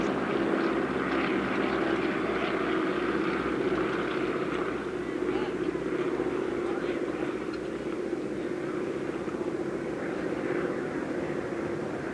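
B-17 four-engine propeller bomber flying at the 1986 Abbotsford International Airshow, a continuous heavy droning engine roar at steady loudness with a voice talking over it.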